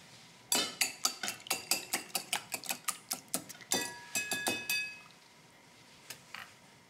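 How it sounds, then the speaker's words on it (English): Eggs whisked in a bowl in the video game Wanted: Dead, a rapid run of crisp, rhythmic clinking strokes, then a few scattered taps fading out. "Whisk the eggs."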